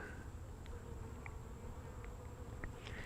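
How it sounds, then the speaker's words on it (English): Bees buzz faintly around a failing double beehive, with occasional individual bees coming and going in brief soft passes over a steady outdoor background hum. "you see an occasional bee coming and going"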